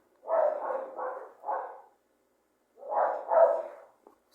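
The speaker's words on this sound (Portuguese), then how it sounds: "Os cachorros latindo." Dogs bark in two bursts, four quick woofs, a pause of about a second, then two or three more, fairly close and clear against a quiet background.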